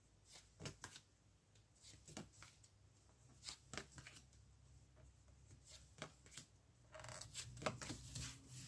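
Tarot cards are shuffled and drawn by hand in a quiet setting, producing soft riffling, flicking and papery slaps in scattered bursts, with a denser stretch of shuffling toward the end. The sound is close but faint.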